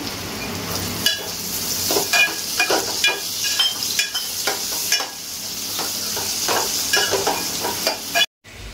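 Finely chopped tomato added to salted onion frying in a pan for Aagri chicken, with a spatula stirring and scraping steadily. The close, continuous sizzle carries repeated scraping strokes throughout, and no one speaks.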